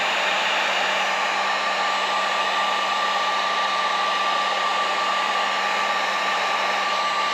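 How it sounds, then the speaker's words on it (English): Heat gun blowing a steady, even hiss of hot air over cracked plastic on a truck drawer, holding a constant tone throughout with no talking. "I've just kind of been going over these cracks lightly with the heat gun"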